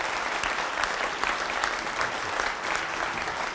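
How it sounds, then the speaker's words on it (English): Warm applause from an audience at a local reform meeting, a steady dense wash of clapping held at even loudness throughout, fairly close and without talk. "And please give a warm round of applause for Richard."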